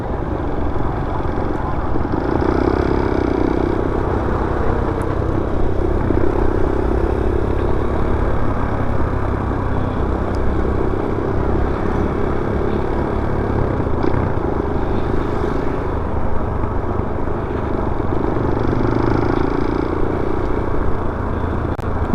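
Motorcycle engine, a Rusi TC or Kawasaki KLX150 running hot after a tire failure, drones steadily and close for the whole stretch, a constant loud low rumble with no talk over it.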